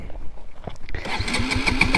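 A 200cc motorcycle with an empty fuel tank is cranked on the electric starter, giving a close, steady, rapidly pulsing whir that does not catch, after a second of quieter knocks.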